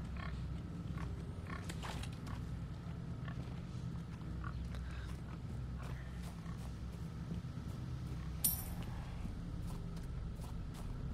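Pigs in the video game Resident Evil 4 keep up soft, low grunting over a droning game ambience, fairly faint, with scattered clicks and one sharp clatter near the end.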